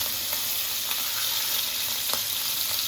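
Fish fries in a pan with a steady, even sizzle and a few soft pops, close and unbroken, with no talking.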